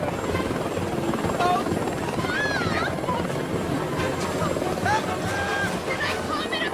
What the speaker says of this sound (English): Amy Smart there's flying a helicopter, and she just wanted to drop in